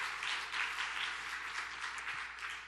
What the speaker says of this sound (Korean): 찬양대회에서 한번 뜨겁게 박수해 주시기 바랍니다